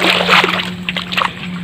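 Water splashes and sloshes up close as feet are washed in a rain-flooded field, a steady wet churning with a few sharper splatters, heard alone without talk.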